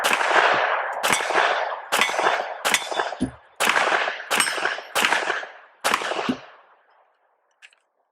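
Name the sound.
Springfield Armory Echelon 4.0C 9mm handgun gunshots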